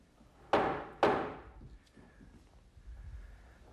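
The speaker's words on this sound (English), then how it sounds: "this next clamp is going to go over the top" Two heavy wooden thunks a half-second apart as metal clamps are set down over the top of a glued-up trestle tabletop in a woodworking shop, followed by faint small clinks and shuffling.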